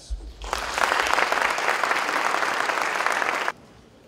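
A burst of steady applause from an audience at a ceremony in Mexico City lasts about three seconds, then cuts off abruptly.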